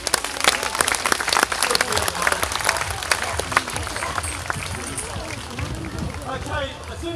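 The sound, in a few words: audience applauding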